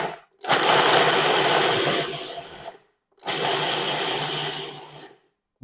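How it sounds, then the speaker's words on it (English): Cooked black beans whirring in a food processor in two loud, steady bursts of motor grind, each lasting a couple of seconds, with a brief pause between and no talk. "I took part of the black beans that I cooked and we're gonna put them in a food processor"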